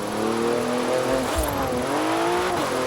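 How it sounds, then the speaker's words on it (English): An Aston Martin Vantage and a Porsche 992 Carrera S drift, with loud, continuous engine revving and rising and falling whine, the pitch sweeping up and down throughout. "I'm just leaving you with some drifting footage of the two cars."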